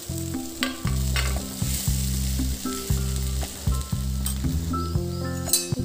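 Boiled mashed potato is stirred into a frying pan, the sizzle constant beneath repeated scraping strokes and light clinks of a spatula against metal, close up and without talk.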